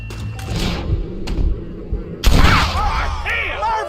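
Sharp gunfire in the Red Dead Redemption video game: a loud crack bursts out mid-clip after quieter thumps, with voices and game ambience around it.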